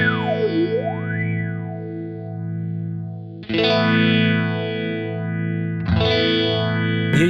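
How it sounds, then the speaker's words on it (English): A sustained electric guitar tone runs through a Phase 90-style phaser on a Kemper Profiler with feedback at maximum, giving loud sweeping, warbling swooshes as two fresh strums ring out in turn. "So here you get these weird sounds with maximum and feedback."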